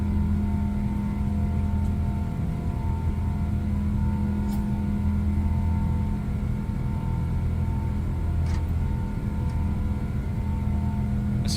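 Steady, loud engine drone of a PMDG Boeing 777 in flight in Microsoft Flight Simulator, a constant low hum with faint higher whine holding evenly throughout.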